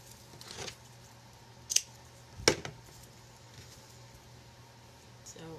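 Scissors snip the ends of a tight double knot in jute twine, giving two quick, crisp cuts close by in an otherwise quiet room.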